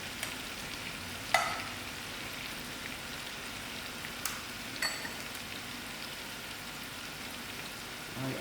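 Tomatoes cooking in a pot of dhal give a steady soft sizzle and bubbling hiss, close and constant, with a few faint clinks.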